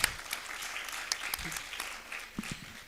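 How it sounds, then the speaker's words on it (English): An audience at a university department colloquium gives a keynote speaker a round of applause, moderate clapping heard across the room, with a voice speaking over it. "Can we also give our keynote speaker a round of applause for finishing on time?"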